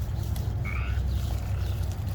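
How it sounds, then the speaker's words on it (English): Frogs croak steadily in the background on a kunekune pig farm, a dense continuous chorus with a few brighter calls rising above the low steady noise. "I don't know if you can hear the frogs, but my frogs"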